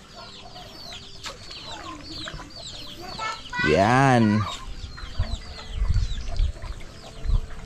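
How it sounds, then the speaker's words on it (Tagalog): Chickens on a farm cluck near and far, with a loud drawn-out rooster crow standing out midway and a person briefly speaking. "Yung manok na palagi sa loob, oh, di na siya nakakapasok."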